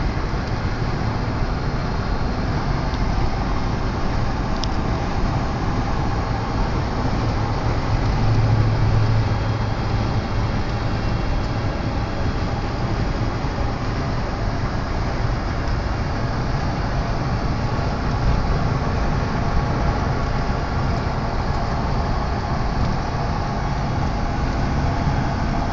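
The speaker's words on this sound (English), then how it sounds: "But this 1988 Ford F150 is cruising right along at a" A 1988 Ford F150 pickup truck cruising along the road at a steady pace, heard as a continuous loud road and engine drone with tire rumble that holds level throughout, with no talking.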